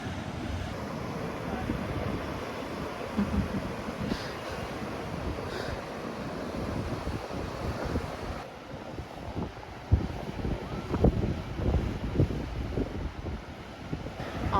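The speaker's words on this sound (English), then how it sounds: "watch them go on the river and go through all these rapids" Whitewater rapids on a river at the Cherokee National Forest Olympic course rush in a constant broadband roar, moderately distant and mixed with some wind buffeting on the microphone.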